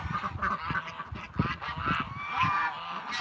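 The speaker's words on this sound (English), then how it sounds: "Come on, you're so slow, ducks." Ducks call outdoors in wind, a close run of loud, honking quacks repeating irregularly for a few seconds.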